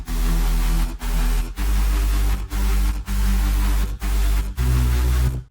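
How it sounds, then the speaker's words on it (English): A synth, white noise and sub bass in an FL Studio mix, sidechained to a kick so the whole sustained wash ducks sharply on every beat and swells back, a steady loud pumping in and out with no voices. "So every time that kick hits, volume of the synthesizer, the white noise, and the sub goes down."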